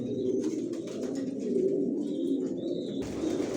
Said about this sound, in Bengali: খুবই স্পিডওয়ালা কবুতর এগুলো